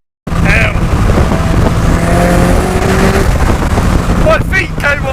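A Mazda MX-5 with a hybrid turbo engine pulls hard on high boost, its engine note droning steadily and loud from inside the car while voices talk over it near the end.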